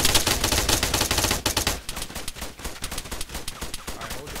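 Rapid gunfire through a wall during close-quarters killhouse training, heard as dense bursts of sharp, loud shots, first a continuous stream and then quicker separated cracks.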